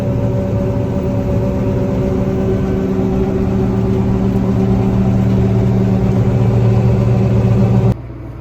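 A grain cart tractor engine runs during the final sorghum harvest of 2022, giving a steady, loud, close droning hum from inside the cab that holds even throughout, then drops to a lower level in the last half second.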